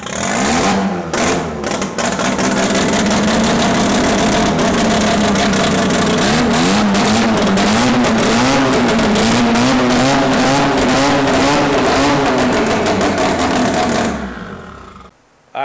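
BMW E90 engine held at high revs on a dyno during a pump-gas tune, a loud sustained drone with rising pitch sweeps, cutting off sharply near the end.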